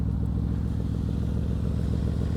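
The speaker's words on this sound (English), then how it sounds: "VMAX does not like the cold. It's also idling a little bit fast." A cold Yamaha VMAX motorcycle engine idles steadily at a quick, even pulse around 1,600 RPM, close and loud, with no voices.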